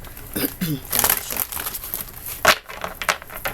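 Close papery riffling and soft slapping of tarot cards being shuffled, in irregular bursts with brief crinkles, a voice faintly present underneath.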